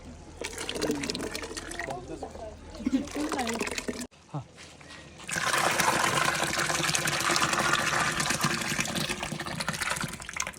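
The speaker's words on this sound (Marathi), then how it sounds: "पाणी" Water gushes from a container into a large pot of mutton curry made from two whole goats, a steady, fairly loud pouring rush that starts after a short pause; earlier there is clattering and stirring near the pot.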